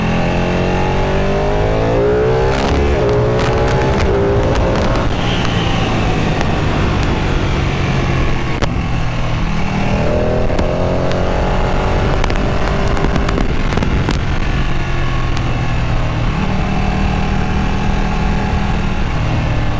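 A Ducati 959 Panigale superbike engine roars under hard, spirited riding, revving up and down through the gears with sharp crackles and pops, loud and close throughout with wind rush.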